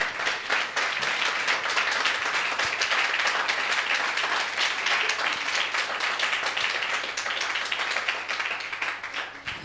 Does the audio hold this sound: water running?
no